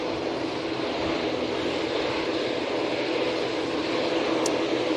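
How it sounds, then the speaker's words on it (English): A Qatar Airways Boeing 787-9 Dreamliner departs Manchester Airport for Doha, its engines a steady, broad jet roar that holds loud and even for the whole stretch with no voices over it. "So it's the 787-9 Dreamliner going back to Doha."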